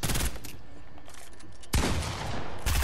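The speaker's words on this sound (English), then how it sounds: "I'm shooting my shotgun." Shotgun blasts in a video game, loud bursts at the start and again near the end with a quieter stretch between, no talking.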